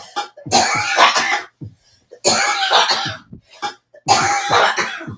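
A person coughs hard in three loud, harsh bursts, each a cluster of rough hacking coughs separated by brief silences, close and alone.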